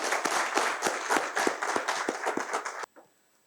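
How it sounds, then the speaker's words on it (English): An audience at a Toastmasters event gives a burst of dense, lively applause with distinct claps that stops abruptly after about three seconds. "Let's welcome with a round of applause Toastmaster Ahmed Parambat."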